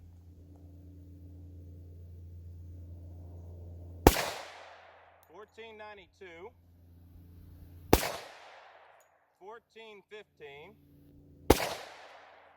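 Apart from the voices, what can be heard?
10mm pistol shots fired over a chronograph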